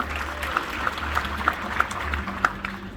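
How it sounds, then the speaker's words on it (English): Audience applause at a magic show, a steady wash of clapping from a crowd with a few sharper individual claps standing out, moderately loud and continuous throughout. "Give yourselves a big round of applause."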